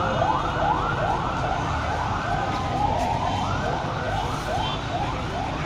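Ambulance and police sirens wail continuously at a bomb blast scene in Quaidabad, overlapping rising-and-falling tones sweeping repeatedly over a dense background of traffic and crowd noise.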